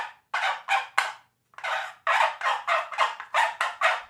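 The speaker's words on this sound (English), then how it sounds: "you rub chalk over the grooves, and it makes kind of a noise like a turkey" A wooden folk-toy turkey call, a saw-grooved board rubbed with chalk, gives a run of about a dozen raspy, gobble-like scraping bursts in quick, uneven rhythm, close and fairly loud, with brief pauses between groups.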